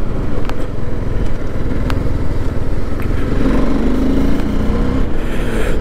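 A TVS Apache RR 310 sports motorcycle engine runs steadily and loudly up close, a continuous throaty drone with small rises in pitch and no talking.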